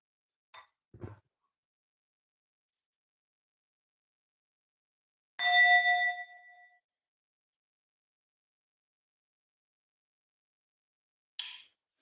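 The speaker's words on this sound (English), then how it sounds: "So we'll just invite the bell." A meditation bell is struck once and rings with a clear, bright tone that fades over about a second, preceded by a couple of soft clicks and followed by a faint tap in an otherwise silent room.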